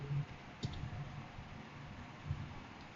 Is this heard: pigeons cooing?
no